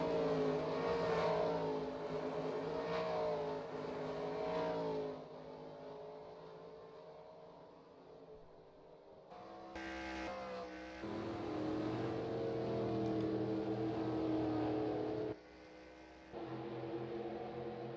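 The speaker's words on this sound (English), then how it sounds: "Drag race between the 60 and the 43" Race cars roar through a drag race in a NASCAR-style racing video game, engines droning and revving in sustained bursts with a few abrupt cuts and level shifts, no voices heard.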